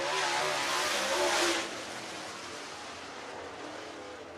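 Super Late Model race cars on hot-lap qualifying at a dirt track, a distant engine roar that swells, then drops off and fades into steady broadband noise.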